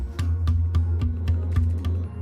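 A 7-ply DW maple drum shell with a reinforcing hoop is struck repeatedly, about eight evenly spaced sharp hits, each with a low resonant tonal ring sustaining between strikes, close and clear with no talking.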